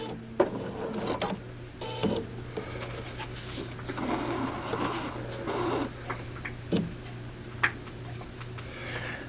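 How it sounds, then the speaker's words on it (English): A Bernina B790 Pro sewing machine works alone for a few seconds, giving soft mechanical ticks and clicks over a steady low motor hum as it draws the bobbin thread up. "tell this thing to bring my bobbin thread back up to the top here"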